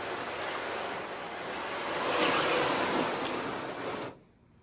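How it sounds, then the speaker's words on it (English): A hose sprays a steady stream of water to rinse soap off a ceramic-coated car. The loud, broad hiss swells slightly midway and then cuts off abruptly near the end. "Get all that soap off of there. Nice rinse."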